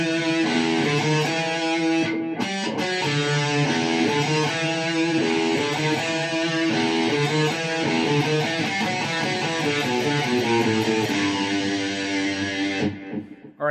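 Electric guitar plays a song intro, a dense, sustained line with effects and distortion, loud and continuous before a short break near the start and an abrupt stop at the end.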